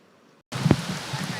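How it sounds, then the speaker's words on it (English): Rain coming down during a monsoon storm in East Phoenix while the sun is still out, starting abruptly as a dense steady patter after a moment of silence. "rain coming down while the sun was still out"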